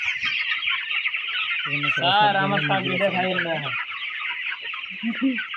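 Broiler chickens on a poultry farm cluck and call steadily throughout, with a louder burst of overlapping squawks in the middle and a few clucks near the end over continuous coop noise.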